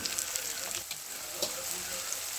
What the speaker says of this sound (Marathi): आता टाकू टोमॅटो.